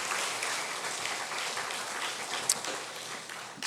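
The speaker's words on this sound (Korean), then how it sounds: "우리 박수로 한번 격려합시다" Church congregation applauding during a Sunday morning worship service, a steady wash of clapping running for several seconds at moderate distance with no talk over it.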